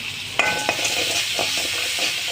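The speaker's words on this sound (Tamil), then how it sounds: "ரெண்டு சிறிய தக்காளி ரெண்டு வெங்காயம் நல்லா வதங்கட்டும்" Tomatoes and onions sauté in a hot pan, a steady broadband sizzle with a few sharp clinks of a utensil stirring against the pan early on, then softer scraping strokes.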